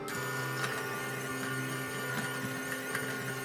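An electric mixer creams butter with brown and white sugar, giving a steady, close, whirring motor drone with a faint rhythmic pulsing throughout.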